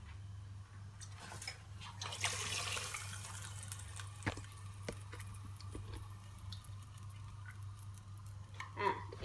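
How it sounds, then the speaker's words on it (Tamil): Water pours steadily into a pot for Tamil Nadu style pongal, a running, splashing stream that swells midway while someone speaks over it. "நான் 6 டம்ளர் தண்ணி ஊத்திட்டேன்"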